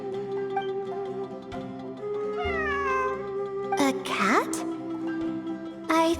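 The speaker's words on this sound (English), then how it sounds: "It really is a cat." A cat meows in a video game, two or three short rising cries standing out over a steady droning musical background, with a brief sharp sound near the end.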